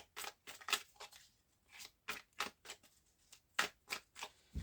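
A deck of tarot cards is cut and handled, giving a series of quiet, crisp card slaps and riffling bursts in irregular clusters, close by and alone without talk.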